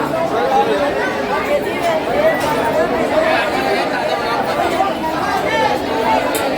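A large crowd of pilgrims chatters at Tryambakeshwar temple in Nashik, a steady, dense babble of many voices filling the space without pause, with a speaker talking over it.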